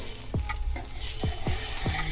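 An egg flatbread cooks in a pan with a quiet sizzle, broken by four or five quick scraping strokes of a spatula.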